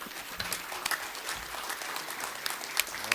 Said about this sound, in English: I wanted to give them a round of applause